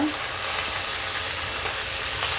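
Green chillies fry in a pan as coriander goes in, giving a steady, loud, dense sizzle that holds evenly throughout with no talk.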